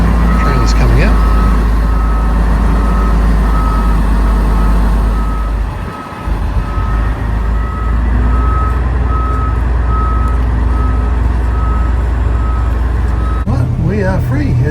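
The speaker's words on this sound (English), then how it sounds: "Trailer's coming out." A boat trailer being pulled out of the water at a boatyard launch, a truck engine rumbling loudly and steadily close by while a reversing beeper repeats throughout.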